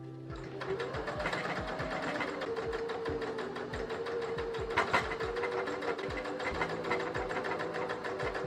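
A sewing machine stitches the side seams of a dress, its rapid mechanical whirring running steadily and close up with regular rhythmic ticks and brief pauses in speed, no voices present.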